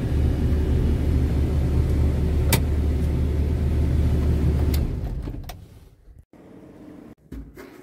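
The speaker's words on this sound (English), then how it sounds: "Now when I rev the motor, you know, it comes up" A Jeep TJ engine runs with a loud, steady low rumble for about five seconds, then drops away to quieter rumbling.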